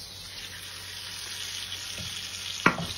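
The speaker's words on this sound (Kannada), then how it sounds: "ನಮ್ಮ ಎಗ್ಸ್ ನ ನಾವು ಶಾಲೋ ಫ್ರೈ ಮಾಡಬೇಕು." Eggs shallow frying in a pan for egg curry give off a steady, close sizzle, with one sharp clatter near the end.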